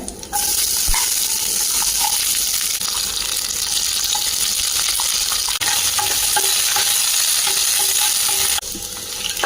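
Crushed small shallots frying and being stirred in a pan for a Kerala lunch dish, a steady loud sizzle with scraping stirs and light clinks throughout, no talking.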